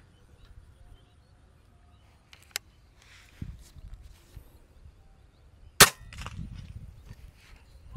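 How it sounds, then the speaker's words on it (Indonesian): A single sharp, loud air rifle shot cracks out near the middle, followed by faint rustling and small clicks in a quiet outdoor setting. "Tembakan kedua."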